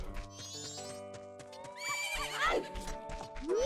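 A horse whinnies loudly over the soundtrack of The Legend of Zelda: Majora's Mask, with clip-clopping hooves and musical tones around it.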